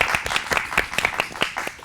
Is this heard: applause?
yes